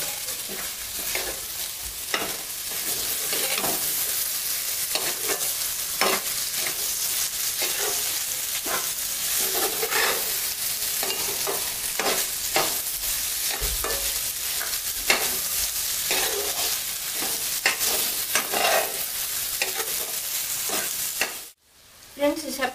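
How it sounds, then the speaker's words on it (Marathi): Horse gram (kulith) curry sizzles steadily in a pan while a spoon scrapes and stirs in repeated strokes, close and continuous, stopping abruptly near the end. "त्यामुळे आधी मी हे चांगलं परतून घेणार आहे"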